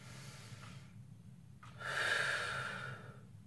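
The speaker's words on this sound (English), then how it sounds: "breathing in through the nose" A slow, deep breath during a climbing stretch: a quiet inhale through the nose, then a louder, breathy exhale through the mouth that swells and fades, heard close and alone.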